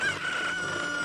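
Video game chicken crowing in Zelda Ocarina of Time, a single short cock-a-doodle-doo heard clearly on its own with no talking.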